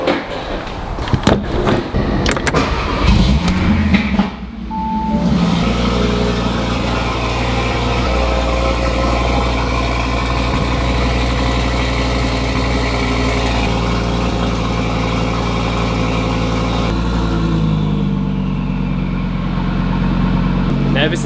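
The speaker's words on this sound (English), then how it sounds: "you can definitely hear a bit of turbo noise now through the exhaust" An Audi RS3 8Y with an aftermarket downpipe, its turbocharged five-cylinder engine revving briefly then settling into a steady deep exhaust drone with turbo whistle, close and loud, with talking underneath.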